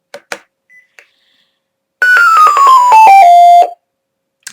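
A smoke detector pairing with a dispersed alarm system plays a loud, clear electronic confirmation tone that steps down in pitch over about a second and a half, preceded by a few soft clicks in otherwise quiet surroundings.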